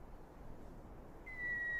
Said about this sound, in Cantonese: 係樹鶯啊！